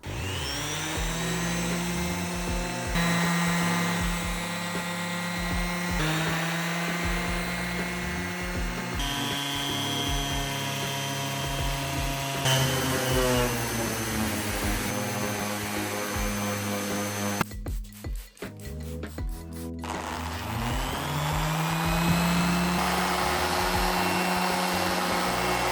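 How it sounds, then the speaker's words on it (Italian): Steady whirring drone of an electric sander working a wood-and-resin tabletop with very fine P4000 sandpaper, continuous and fairly close, with a brief stop and shifts in pitch partway through. "ho finito di carteggiare con la P4000, pulito bene"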